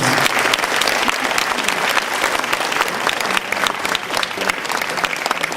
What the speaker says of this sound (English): I just want everybody to give a round of applause to Brother Kwame at this point here.